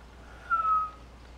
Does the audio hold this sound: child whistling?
yes